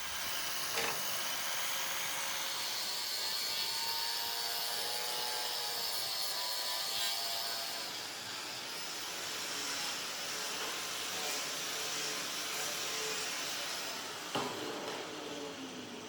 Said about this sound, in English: I'm using the angle grinder with a fine conditioning disc to carefully brighten up the steel